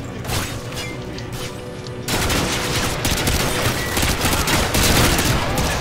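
Gunfire in the Call of Duty Modern Warfare 2 Special Ops video game, sustained rapid bursts of shots that grow louder and denser partway through, with dense battle noise and no talking.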